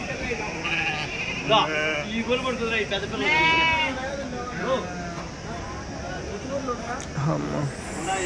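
Sheep and goats bleat repeatedly at a busy livestock market, the calls rising over a steady crowd murmur and people talking nearby.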